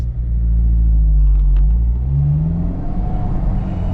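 A manual-transmission car pulls away from a stop, its engine revving up smoothly in a steady low rumble that climbs in pitch as it gains speed, loud and close throughout with no talking.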